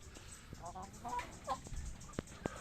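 Orpington heritage chickens clucking in a backyard coop, a few short soft clucks and calls scattered over a quiet outdoor background with light ambient noise.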